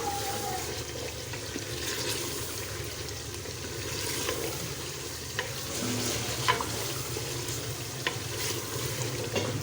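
A spoon stirs palak gosht simmering in a pot, with a steady bubbling sizzle and soft scraping strokes running throughout at moderate volume.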